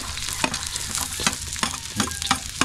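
Garlic sizzles in a hot pan while a spoon scrapes and stirs it in quick, uneven strokes, close and clear, with a constant frying hiss underneath and no voices.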